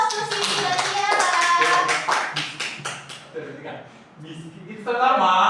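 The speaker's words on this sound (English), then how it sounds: "Give applause to Siti dan Tiara" Brisk applause from students in a classroom, a burst of rapid claps lasting a few seconds that fades out before a voice speaks.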